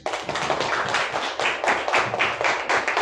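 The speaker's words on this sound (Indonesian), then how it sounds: "Tepuk tangan semuanya." A classroom of students claps their hands together for a few seconds, uneven bursts of clapping close by with a few small pauses between waves.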